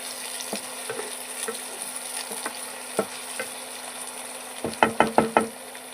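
Tomato frying with ginger and garlic in a pan gives a steady low sizzle under a faint hum, with a quick run of sharp stirring knocks near the end.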